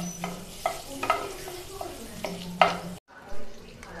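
Bay leaves and dry red chillies sizzle in hot butter and oil for a dhaba-style palak paneer, a steady hiss with a few soft stirring clicks before a brief drop near the end.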